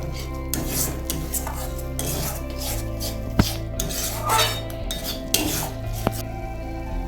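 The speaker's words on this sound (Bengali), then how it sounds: "এবার সবটাকে একসাথে ভালোভাবে মিশিয়ে নেব" Yogurt paste being stirred into katla fish korma masala in a pan: rhythmic spoon scraping and rubbing against metal, with occasional sharp clinks and a faint sizzle underneath.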